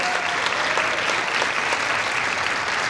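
Steady, full applause from a crowd at a high school mid-year band concert, a continuous dense wash of clapping that holds at an even level throughout.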